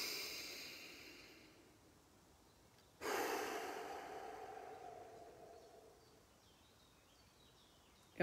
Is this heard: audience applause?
no